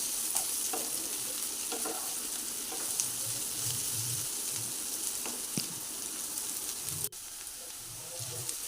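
Slit green chilies fry in oil in a pan with onion, a steady close sizzle and hiss carrying throughout, broken by soft scraping stirs of a spatula and a brief clunk.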